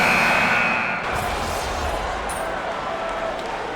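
An arena crowd cheering in the NBA 2K25 video game: a loud roar that swells at the start, then settles into a sustained, dense crowd noise.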